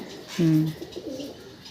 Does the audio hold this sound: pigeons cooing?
yes